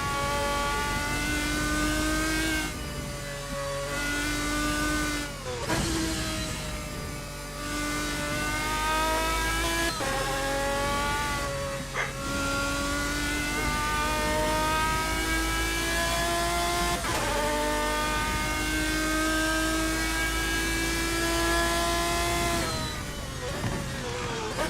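Race cars at the 24 Hours of Le Mans roar past one after another, each engine rising in pitch as it accelerates and changes gear, loud and continuous over about 25 seconds with no talking.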